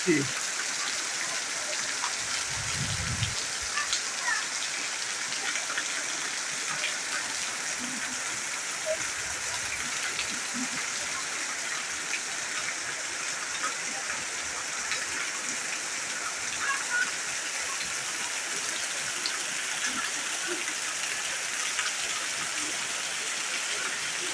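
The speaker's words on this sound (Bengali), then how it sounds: "অনেকদিন পর হঠাৎ করে বৃষ্টি চলে আসছে অনেক মানে জোরে জোরে বৃষ্টি হচ্ছে" Sudden heavy rain falls at dusk, a dense, steady hiss and patter of drops on surfaces that continues evenly throughout.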